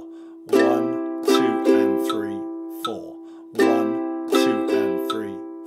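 Ukulele strummed in a calypso island pattern, down-down-up, in two repeated bursts of three bright chords with a short pause between, close and clear; the metronome clicks are hard to pick out under the strums.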